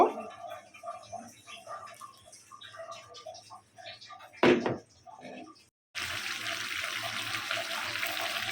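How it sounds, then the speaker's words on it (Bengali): Half a cup of water goes into a potato, vegetable-stem and shrimp curry in a pot, heard as a loud, steady rush of pouring liquid after a short spell of quieter kitchen sounds and a brief clatter. "আর হাফ কাপ পানি আমি অ্যাড করে দিব"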